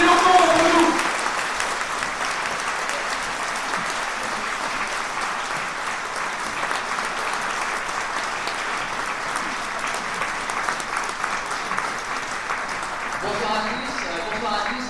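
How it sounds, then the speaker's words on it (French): Sustained applause from a large crowd fills a political rally hall in Belfort, dense and steady throughout before fading near the end. "je vous demande un tonnerre d'applaudissements pour Jean-Philippe Tanguy"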